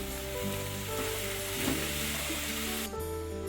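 A veg paneer and soyabean rice mixture with tomato sauce stir-fried in a pan, loud continuous sizzle with spatula scrapes and clinks, a louder scrape midway, and the sizzle thinning near the end.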